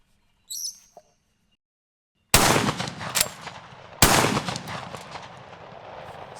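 An Axor Arms Bushpig 2.0 shotgun fires two loud, sharp blasts in quick succession outdoors, each followed by a trailing echo, after a brief faint bird call.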